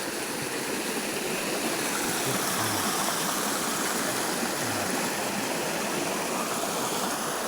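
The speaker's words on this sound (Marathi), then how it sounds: "वाहणारी नदी आणि तिचा तो मंजुळा आवाज तुम्ही पाहू शकता" A riverside near a Mahadev temple close to Somthana and Harbal villages in Kandhar taluka carries the steady, broadband rush of flowing water, constant and fairly close throughout with no voices.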